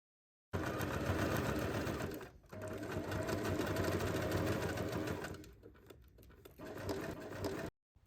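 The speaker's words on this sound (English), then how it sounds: "pin and sew the side panel's lining to side panel's main fabric" A sewing machine stitches a handbag's side-panel lining to the main fabric, running in a loud continuous close whir for several seconds, briefly pausing, then resuming in long steady runs before stopping abruptly.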